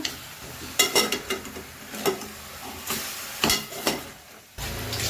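A spoon repeatedly scrapes and knocks against a pot while biryani mixture with added salt is stirred, irregular close clattering strokes over a low frying sizzle.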